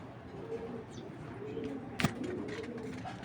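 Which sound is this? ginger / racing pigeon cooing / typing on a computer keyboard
racing pigeon cooing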